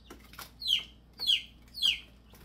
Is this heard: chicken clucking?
yes